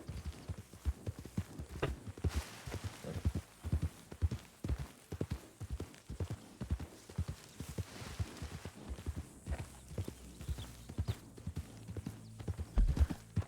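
Steady clip-clop of horse hooves walking in a Red Dead Redemption 2 roleplay game, a quick even rhythm of hard knocks continuing throughout at moderate loudness with no talking.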